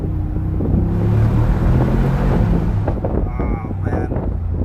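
A 2019 Mercedes-AMG G63 with its 585 PS engine, heard through an open window while driving in second gear, gives a loud steady low rumble with wind buffeting throughout and a brief higher pass near the end.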